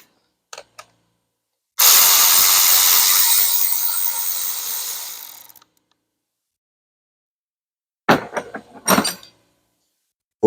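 A power tool removes an E12 inverted Torx bolt from a fuel injector retaining plate, heard as a close whirring burst lasting a few seconds that winds down, followed by short metallic clicks and rattles.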